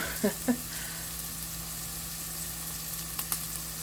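Smoky ham and onion fry in a pan with a steady, moderately loud sizzle, marked by a couple of quick utensil scrapes at the start and a few more near the end, over a faint low hum.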